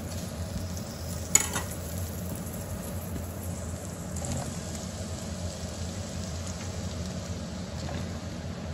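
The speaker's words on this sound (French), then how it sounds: "Voilà, on fait revenir les courgettes." Courgettes frying in a pan make a steady, low sizzle throughout, with one brief clatter near the start; no one speaks.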